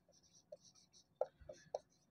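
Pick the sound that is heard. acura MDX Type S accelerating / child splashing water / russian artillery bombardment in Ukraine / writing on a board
writing on a board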